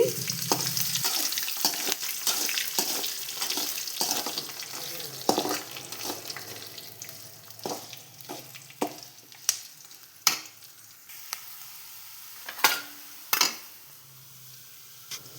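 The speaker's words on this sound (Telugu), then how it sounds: "ఇప్పుడు ఇందులోనే మనం ముందుగా కట్ చేసి పెట్టుకున్న ఆనియన్స్ని కూడా వేసి ఫ్రై చేయండి" Chopped onions fry in hot oil in a pan for a Telugu sasava leaf tempering, with a steady close sizzle broken by repeated scraping stir strokes and a few sharp clinks of the spoon.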